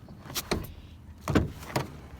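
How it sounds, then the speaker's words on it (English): A stuck rear door on a 2004-2008 Ford F-150 extended cab is worked open: a few sharp latch clunks and rattles come in two close pairs, near and fairly loud, with quiet gaps between. "He got the door open in less than 5 minutes"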